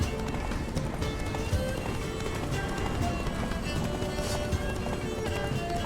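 Galloping horse hooves from The Witcher 3 video game, a steady rapid clip-clop rhythm held close and constant throughout, with faint game ambience underneath.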